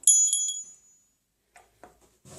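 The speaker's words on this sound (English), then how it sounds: "On here I've also got a little bell" A small bell rings brightly at the start with a couple of quick chimes that fade away, followed by faint soft handling noises.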